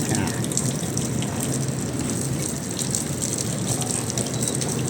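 Water gushes steadily from a hose, a continuous loud spray splattering on a hard surface.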